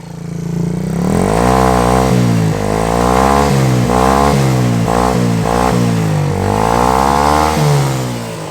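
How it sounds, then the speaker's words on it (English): A Tao Tao ATM50-A1 scooter's small engine revs hard several times, its exhaust rising and falling in throaty bursts, loud and close, then settling back to a rough idle. "Listen to that exhaust."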